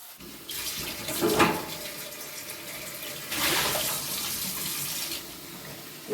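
Tap water runs over mung bean seeds being rinsed for sprouting, a steady close splashing in two bursts with a short quieter pause between, no voices.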